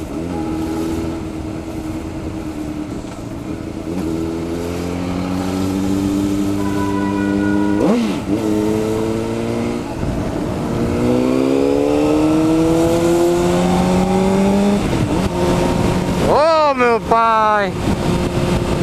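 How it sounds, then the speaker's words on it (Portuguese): Honda CBR 600RR four-cylinder sport motorcycle with a Yoshimura exhaust, revving hard up and down in loud rising and falling sweeps, close by, with sharp high-pitched bursts near the end. "Se eu tenho um Yoshimura berrando por mim"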